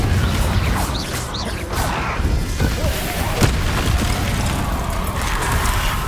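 A Confringo blasting spell going off in Hogwarts Legacy, with loud booms, crashes and whooshes of combat effects packed densely together and a shouted spell voice mixed in.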